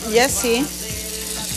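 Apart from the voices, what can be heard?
corn fritters frying in hot oil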